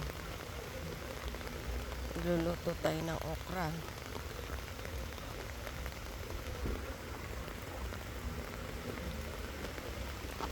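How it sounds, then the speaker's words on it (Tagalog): Steady rain patters on farm plants such as okra and papaya trees throughout, a soft constant hiss, while a person speaks briefly near the start. "Umuulan-ulan."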